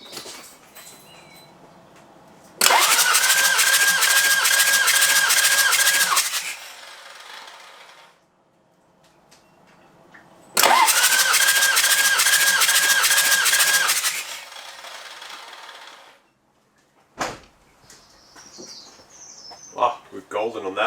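A Toyota Land Cruiser 80 Series 1HD-T diesel engine cranks over during a compression test: two loud bursts of rhythmic starter cranking, each a few seconds long, separated by quiet, followed by faint clicks.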